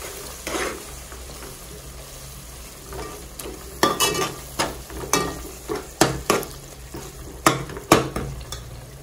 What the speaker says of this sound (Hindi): दो मिनट के लिए अच्छा मसाले को भून लेंगे हम।